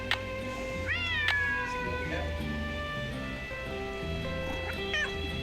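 A cat meows in a few rising, drawn-out calls close by, heard over steady background music and game sounds.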